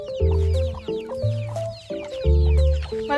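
Several chickens on a provincial farm cluck and call in close, overlapping bursts, with loud, repeated squawks that rise and fall.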